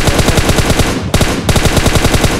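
Automatic weapon fire in the mobile battle royale game PUBG Mobile: a loud, steady stream of rapid shots with one brief pause, close and dominant throughout.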